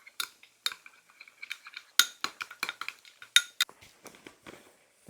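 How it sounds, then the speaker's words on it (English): A spoon stirs honey and mustard together in a bowl, clinking and scraping against the sides in a quick, irregular run of close taps. "Now we're going to take 1 teaspoon of honey. That's it. Just going to stir it around."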